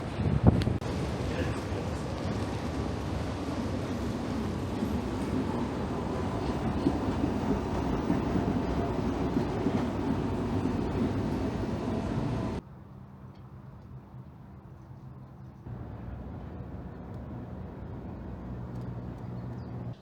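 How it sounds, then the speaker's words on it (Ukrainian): A Budapest metro train runs underground with a steady loud rumble and rushing noise, then drops to a quieter hum as it slows or the setting changes, no clear talk heard. "потрібно спуститися в підземку і е, сісти на поїзд в напрямку вокзалу Делі"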